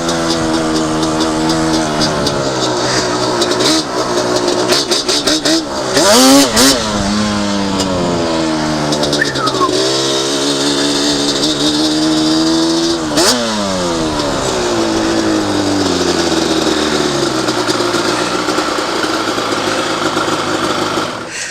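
A Yamaha Banshee ATV with an air box modification, its two-stroke engine revving up and down several times between idle stretches, close and loud throughout.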